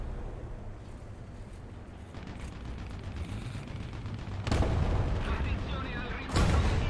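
Tank cannon fire from a German premium tank in War Thunder, two loud booming shots near the end over a steady rumble of engine and battle noise.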